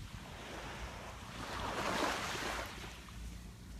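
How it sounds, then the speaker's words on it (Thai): Ocean waves washing onto the sand at Chao Samran Beach, a soft rushing surge that swells and recedes, heard under wind noise on the microphone. "นี่ได้ยินเสียงคลื่นไหม"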